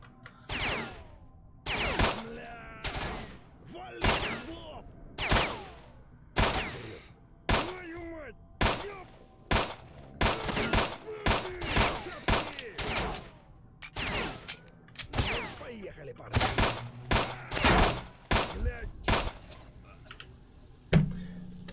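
Gunfire from the shooter game S.T.A.L.K.E.R.: Shadow of Chernobyl rings out in sharp, loud single shots and short bursts, spaced irregularly over the stretch with faint game ambience between them.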